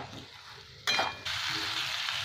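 Boiled taro fries with spices in a pan, a close sizzle that flares into a brief loud hiss as it is stirred, then settles into a steady, stronger crackle.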